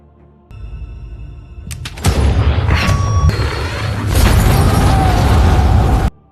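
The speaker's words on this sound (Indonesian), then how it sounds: "Akan tetapi tembakan itu malah mengenai tabung gas." A gas cylinder blows up in a film scene after being hit by a gunshot, a loud booming blast that bursts in suddenly and keeps roaring as sustained crackling rumble for several seconds before cutting off.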